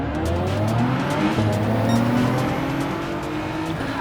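Race cars in Gran Turismo 7 pulling away from a grid start, several engines revving loud and close with rising and falling pitch as they shift through gears, plus a brief tire squeal.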